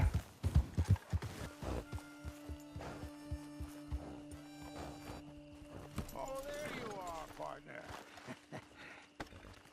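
Horse hooves clip-clop in Red Dead Online, a rapid irregular run of close, fairly loud hoof strikes at the start that continues more sparsely alongside steady in-game tones, with a brief whinny-like call partway through.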